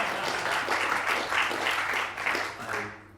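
Applause from an audience after a performance of a song, a full, even wash of clapping that holds steady and then fades out toward the end.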